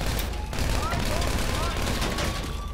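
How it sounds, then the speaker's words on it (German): Gunfire crackles in GTA 5, with a fast volley of shots under continuous game noise and a voice speaking over it. "Ich krieg gerade ein paar Schüsse ab"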